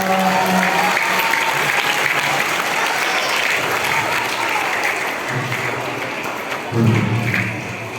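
Loud, continuous clapping from an audience of children and adults at a Nuzul Quran celebration, fairly close, with a few voices calling out over it near the start and again near the end.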